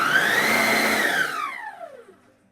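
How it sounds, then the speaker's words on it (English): Vitamix food processor attachment spinning dry pie dough ingredients, a loud whirring motor that holds steady for about a second, then winds down with a falling pitch to silence. "I'm going to be mixing everything together in my Vitamix food processor attachment just to make sure that all those dry ingredients get well mixed"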